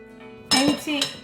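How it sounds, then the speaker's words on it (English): A hand whisk clinks and scrapes against a bowl of chocolate cupcake batter in two quick bursts, close and fairly quiet. "Now so the hand whisk so now they are mixing it"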